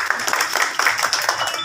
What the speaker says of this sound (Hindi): भाई आतिफ अब्बास साहब के लिए भरपूर तालियां